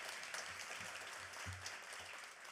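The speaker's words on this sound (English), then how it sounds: "Please give them a round of applause because they deserve it." A keynote audience applauds, faint steady clapping from many hands heard at a distance, continuing evenly under a low hum.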